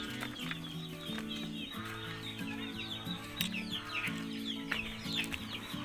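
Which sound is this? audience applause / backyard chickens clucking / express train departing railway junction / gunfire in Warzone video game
backyard chickens clucking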